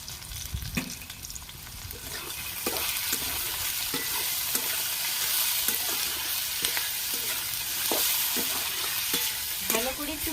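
Gima saag greens with turmeric fry in a pan, giving a continuous bright sizzle with occasional stirring scrapes and taps, close and steady with no talk.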